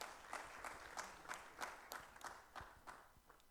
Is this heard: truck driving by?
no